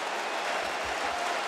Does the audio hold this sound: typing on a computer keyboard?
no